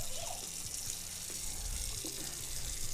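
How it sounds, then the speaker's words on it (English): Water runs steadily from a bathroom tap while hands are washed beneath it, a constant close splashing stream with faint clatter in the background. "Go in the bathroom, wash your hands."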